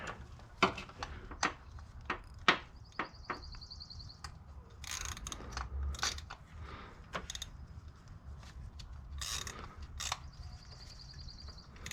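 Ratchet tightening a spark plug on a 2007 Subaru STI, with clustered clicking pawl bursts and metallic tool knocks in the engine bay, close and fairly quiet with no talking.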